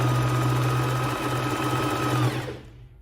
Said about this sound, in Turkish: İleri geri yaparak penyeyi esnetmeden daha konforlu bir dikiş sağlıyor.